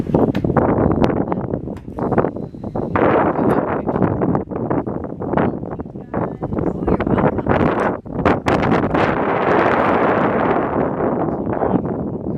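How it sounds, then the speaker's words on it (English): Strong wind roars steadily outdoors, buffeting the microphone with loud continuous rumble and gusts, with faint sounds beneath it. "It's windy."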